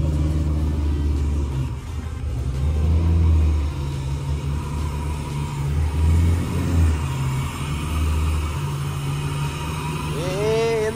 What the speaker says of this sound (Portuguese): Ficou uma hora o ronquinho ali, ó.